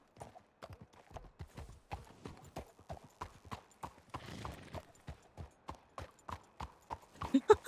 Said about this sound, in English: I almost stole her horse.